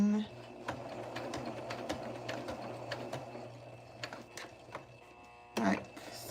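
Sewing machine running a chainstitch along a vest seam, a steady close mechanical whirr with rhythmic ticking, ending in a brief louder burst, with a voice speaking over it.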